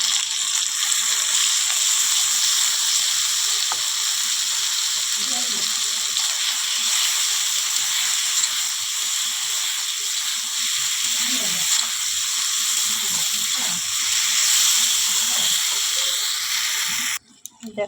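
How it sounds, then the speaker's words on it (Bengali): Ground spice paste hitting okra frying in a pan gives a steady, close sizzling hiss that runs throughout, with faint clinks and scraping of a utensil underneath. "আর এই সময় আমি মশলাটা দিয়ে দেবো, যে মশলাটা বেটে রেখেছিলাম"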